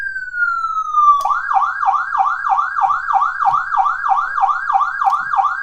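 A Powercall DX5200 electronic siren sounds at reduced volume: a falling wail drops straight into a rapid, rhythmic yelp that repeats steadily, clear and close with no talking.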